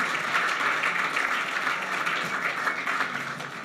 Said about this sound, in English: Another round of applause for Mark from Alspec Solar.